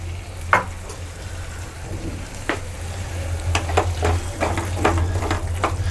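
Crushed potato stirred into a sizzling tomato masala in a pan, a steady frying hiss under repeated scraping and clinking spoon strokes, close and fairly loud with no talking.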